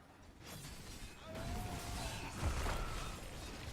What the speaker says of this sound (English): I will share some footage of the cooler running at idle